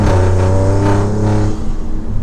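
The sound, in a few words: tuned Alfa Romeo Giulia Quadrifoglio accelerating and shifting in race mode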